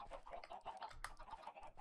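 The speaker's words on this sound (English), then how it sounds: "for now, though, like, I have chickens!" Chickens cluck in the Minecraft video game, a quick cluster of short, faint bird calls close by with no talking.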